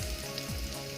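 Garlic fries in hot oil in a pan, giving a dense, even sizzle that crackles steadily and close up throughout the short moment, with no voices.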